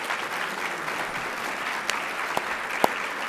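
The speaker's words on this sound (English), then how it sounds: "we should give them a round of applause as well" A luncheon audience applauds in a steady, dense round of clapping filling the room, with a few sharper individual claps standing out near the end.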